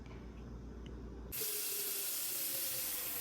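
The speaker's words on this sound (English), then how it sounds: "First, fill your pot with water." Water from a kitchen tap gushes into a cooking pot, switching on abruptly after a quiet room and then running as a steady, loud, close splashing stream.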